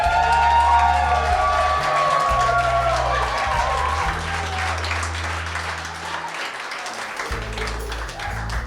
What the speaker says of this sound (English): Can I get a round of applause for the beautiful bride